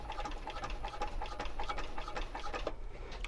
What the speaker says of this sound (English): We're top stitching, and I have it on a 5 stitch length